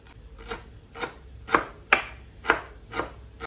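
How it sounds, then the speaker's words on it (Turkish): A knife chops parsley and dill rhythmically on a cutting board, seven crisp strikes about half a second apart, close and clear with no talking. "Onları da xırda-xırda doğrayıram."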